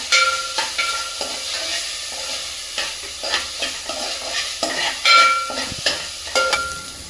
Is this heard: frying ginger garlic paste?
yes